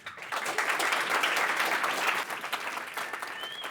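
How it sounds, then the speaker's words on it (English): Audience applause following a sci-fi design talk, a steady wash of many hands clapping in a hall for nearly four seconds, loud and sustained before easing slightly toward the end, with no talking over it. "After a bit of applause to impress my nieces, we're going to have a Q&A session."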